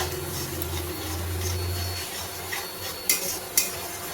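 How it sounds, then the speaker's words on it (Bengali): Spice paste of garlic, green chilli, tomato, onion and ground garam masala is worked in a hot pan for a prawn curry with potato and pointed gourd, giving a faint, steady scraping stir with two sharp clinks near the end. "ততক্ষণ আমি মশলাটাকে একদম সুন্দরভাবে কষিয়ে নেব"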